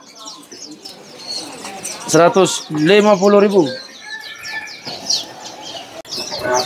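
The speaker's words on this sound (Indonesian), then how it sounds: "ini ada yang namanya burung tali pocong ya" A tali pocong, also called a sriwang, calls in a series of bright, warbling whistles with some chattering notes. Someone talks loudly over the birdsong partway through.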